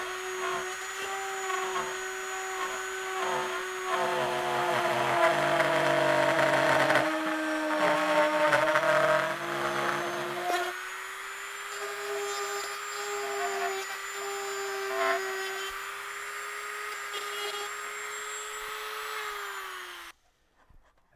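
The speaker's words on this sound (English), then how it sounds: "clear out the slot as you're cutting in order to prevent jamming and chattering from the bit" A high-speed router whines steadily for about twenty seconds, its pitch dipping briefly as the bit bites into a guitar pickguard, then cutting off abruptly.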